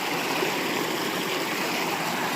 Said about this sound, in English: Gonna cross the river now.